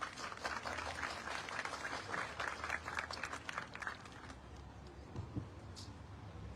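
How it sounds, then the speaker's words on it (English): A crowd applauds a final speaker at a Tibetan youth rally, steady dense clapping filling the space and tapering slightly toward the end, with no talking over it. "please give a huge round of applause to our final speaker, Tenzi Pandela."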